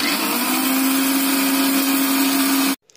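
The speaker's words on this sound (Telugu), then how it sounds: "ఈ పోపు చల్లారింది దీన్ని మిక్సీ చేస్తున్నాను" An Indian mixer grinder whirring as it grinds fried chillies and asafoetida, a loud steady motor whine with a sustained hum that cuts off abruptly near the end, followed by faint handling noise.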